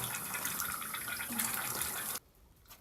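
Water runs steadily from a tap while blood is washed out of a shoe, a continuous rushing splash that cuts off abruptly near the end.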